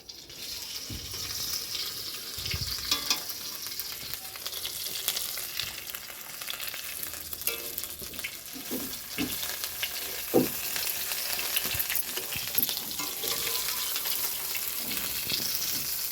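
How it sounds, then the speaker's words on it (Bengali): Eggplant slices fry in a pan in Bengali home cooking, a steady close sizzle and crackle throughout with occasional stirring scrapes and no talking. "তো বন্ধুরা এখন বেগুন ভাজাগুলো হয়ে গেছে,"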